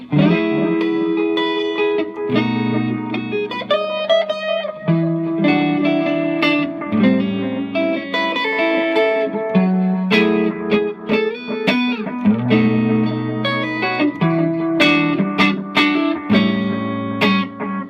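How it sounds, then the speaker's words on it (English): Electric guitar through an Egnater Tweaker 15 watt amp, played clean with echo added: sustained chords and single notes ringing out with repeats trailing behind, loud and close with no talking. "And then bring in some echo."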